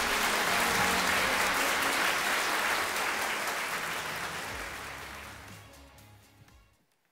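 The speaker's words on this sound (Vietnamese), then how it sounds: "Xin quý vị hãy cùng dành một tràng pháo tay để cùng chào đón bà Mai Thị Hồng Quyên." A crowd claps steadily in sustained applause that gradually thins and fades out near the end.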